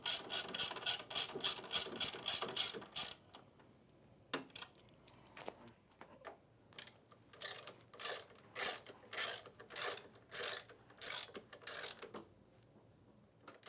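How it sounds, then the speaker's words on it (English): A ratchet wrench tightens the main frame bolts on an IKON floor buffer machine, clicking in rapid close bursts of strokes with short pauses between sets, loud and alone without talk. "With your linkages now tight, you will now secure the main frame bolts."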